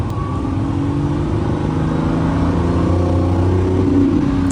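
A Lamborghini Revuelto in strata mode revs with its exhaust valves open, a loud, sustained engine drone climbing steadily in pitch throughout, close and unbroken.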